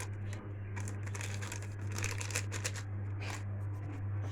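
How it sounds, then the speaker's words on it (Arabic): A paper packet of baking powder is torn open and poured while pumpkin bread dough is being prepared, giving soft crinkling and rustling bursts over a steady low electrical hum. "هحط ظرف بيكنج باودر"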